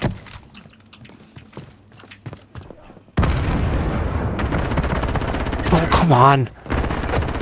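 Rapid, sustained video-game gunfire from a multiplayer battle-royale match bursts in loud and close after quieter scattered shots, while a player shouts over it.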